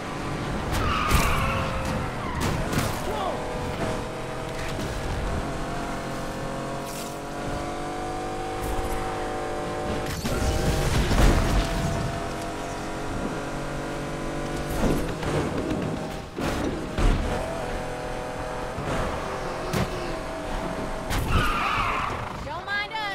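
In Need for Speed Unbound, a car drives through city streets with tires skidding and squealing in repeated bursts over a continuous engine roar, while voices talk at times.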